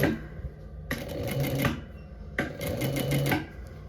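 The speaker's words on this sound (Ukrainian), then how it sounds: "Допомагаю ось так сніпером гарно підгорнути і прокладаю строчку" A sewing machine runs two short bursts of rapid stitching on a hoodie shoulder seam, close and fairly quiet, with soft handling noise in the gaps.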